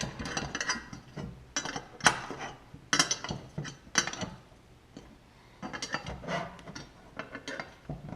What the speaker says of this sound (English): Of course I'm using the wrong size wrench.